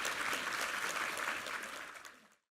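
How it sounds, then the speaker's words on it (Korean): A Korean church congregation at a Sunday service claps together in a dense burst of applause that fades out to silence. "우리 하나님께 감사와 영광의 박수 올려드리겠습니다"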